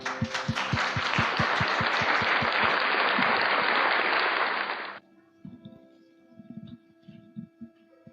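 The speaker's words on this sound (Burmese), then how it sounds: "အားလုံးလက်ခုပ်တီးနဲ့ကြိုဆိုကြရအောင်" A church congregation at Grace Church in Bang Pa In claps loudly for five seconds to welcome a preacher at a New Year's Day service, with steady rhythmic thumps under the applause. It then cuts to a quiet hum with scattered soft knocks.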